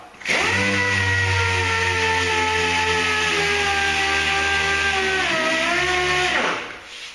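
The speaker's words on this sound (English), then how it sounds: "I don't want to sand too much when I hit the plastic" A power sander runs steadily on body filler over a Buick Century panel, a loud continuous motor whine with harmonic tone that dips slightly in pitch near the end before winding down.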